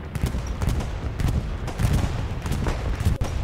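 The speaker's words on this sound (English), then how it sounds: "In comes the bombing run." Bombing-run explosions in a competitive online war shooter match, heard as a rapid run of rumbling bursts and cracks layered over one another, loud and continuous throughout.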